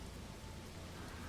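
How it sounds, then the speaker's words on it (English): Steady rainfall in the video game No Man's Sky, a soft, even hiss of falling rain that holds unchanged throughout with no voices over it. "let's get out here in the rain"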